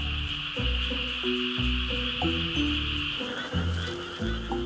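A Korean brown frog, a species endemic to Korea, calls from a rice paddy close to forest, giving a run of rhythmic, pulsing croaks in steady sequence over a constant high insect-like hiss.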